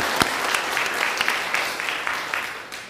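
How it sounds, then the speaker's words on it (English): A Lutheran congregation at Sunday worship applauds the quilt makers, a brisk burst of many hands clapping for about three seconds before tapering off. "Can we have a round of applause?"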